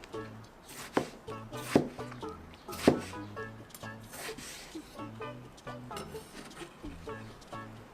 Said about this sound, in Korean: 자, 아보카도 이렇게 칼집 넣어주세요. 돌아가면서 싹 돌려주시면 됩니다.